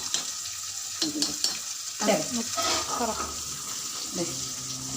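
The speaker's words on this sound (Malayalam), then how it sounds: "നമ്മുടെ അയില തക്കാളി തേങ്ങ ഇട്ട് വെച്ചത് റെഡി കേട്ടോ പതുക്കെ ഒന്ന് തിളയ്ക്കാവുള്ളൂ" Mackerel curry with tomato and ground coconut simmers in a pan with a steady low bubbling hiss, and clinks and stirring noises come and go while someone speaks briefly over it.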